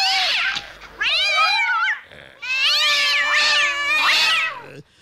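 A cat meows loudly several times in a row, long drawn-out wailing calls with a short pause between them, no talking.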